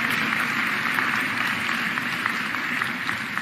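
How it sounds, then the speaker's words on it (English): Audience applause for elected officials at a mayor's State of the City address, a steady wash of clapping from a large crowd that holds even and fairly loud throughout. "Give all of our elected officials a round of applause"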